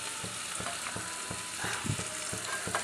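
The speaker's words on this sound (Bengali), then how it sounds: "কষে কষে রান্নাটা করবো" Egg curry is stirred and sautéed in a pan: a soft continuous sizzle broken by regular, rhythmic spatula scrapes, close and moderately quiet.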